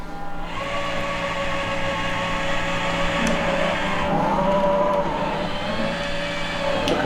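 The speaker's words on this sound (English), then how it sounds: "That loco, Laurie, seems to need quite a lot of power" A 2mm finescale model locomotive hums and whirs continuously along the track, a steady mechanical drone with faint clicks and squeals, no talking.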